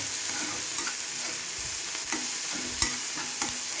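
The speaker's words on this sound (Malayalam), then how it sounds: "അങ്ങനെ നമ്മളുടെ ഉള്ളി നന്നായി വഴന്ന് വന്നിട്ടുണ്ട്" Onions sauté in an idli steamer pot, making a loud continuous sizzle with several sharp scrapes and clinks of a spoon against the metal, and no one speaks.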